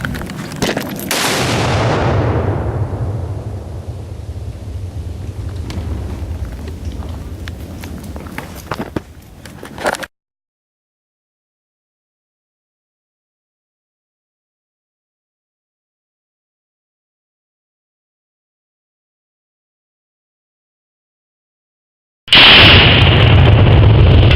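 A binary explosive detonates outdoors with a loud, sharp blast that rolls into a long decaying rumble lasting several seconds, followed by silence and then a later burst of loud noise.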